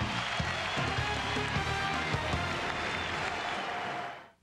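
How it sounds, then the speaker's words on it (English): Basketball arena crowd cheering at Iowa State's Hilton Coliseum in Ames during a game against Kansas, a loud, steady roar of voices and clapping that carries on evenly, then fades out at the end. "This crowd's alive."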